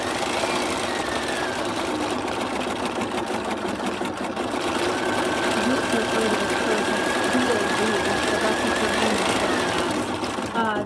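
A fast sewing machine runs continuously at high speed with a steady mechanical whir and rapid needle clatter, loud and close throughout.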